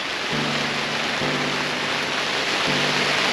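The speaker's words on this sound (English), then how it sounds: "It's been raining for about an hour." Steady, heavy rain drumming on a tent nearby, a continuous hiss with a faint low hum underneath.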